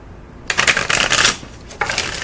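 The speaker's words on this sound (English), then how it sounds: "I need to shuffle." Aquarian Tarot cards shuffled by hand in two close, crisp bursts of riffling and sliding, the first lasting almost a second and the second starting shortly after a brief pause.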